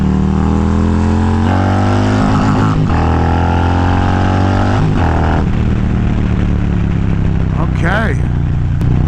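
Loud exhaust roar from a Harley-Davidson Road Glide performance bagger with a new clutch while riding, the engine pulling through rising revs and then dropping between shifts, with steady deep rumble and wind underneath and a voice talking over it.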